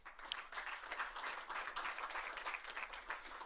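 Audience applause at an electoral oversight forum, a continuous wash of clapping from a seated crowd, faint and somewhat distant, with no talk over it.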